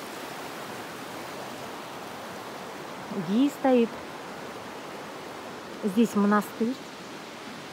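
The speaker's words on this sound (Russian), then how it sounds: "Горная река Гумиста." The Gumista mountain river rushes past below a bridge as a constant broadband roar, while people speak briefly over the flowing water.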